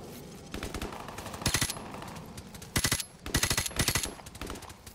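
Automatic gunfire in a Call of Duty: Modern Warfare Remastered shootout, with several loud bursts of rapid shots over a steady background of battle noise.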